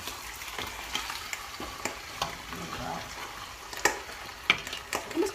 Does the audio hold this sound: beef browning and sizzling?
yes